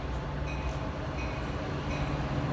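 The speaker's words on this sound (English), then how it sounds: "The next outbound Metra train from Chicago is now arriving in your station." Outbound Metra commuter train arriving at the 5th Ave. station from Chicago, a steady low rumble of rolling cars close by with a faint high squeal above it, no one speaking.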